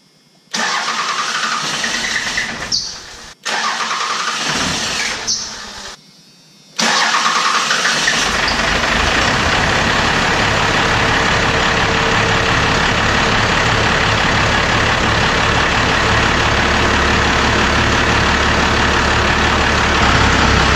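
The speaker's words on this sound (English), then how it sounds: "Well, started up. It did have to crank over just a little bit more than normal right off the bat" A diesel truck engine cranks in several short bursts with pauses between them, then catches and settles into a loud, steady idle that runs on to the end.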